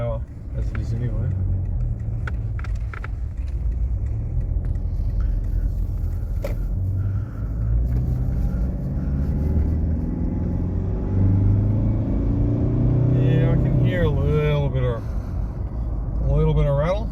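A 2015 Toyota Prado with the 1KD-FTV diesel drives on a test run after decarbon work and has a knocking fault. A low cabin rumble builds as the engine pulls up through the revs, with someone talking over it throughout.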